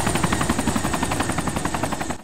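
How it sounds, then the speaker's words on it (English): Helicopter flying overhead in a multiplayer video game, a loud steady rotor chop with a rhythmic pulsing thump throughout, close and dominant, fading slightly at the end. "Chopper just passed over the farm"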